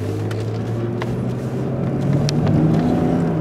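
A 2008 BMW 328xi with all-wheel drive hums steadily as it is driven hard through corners, with a loud, continuous low engine and road drone that swells slightly near the end.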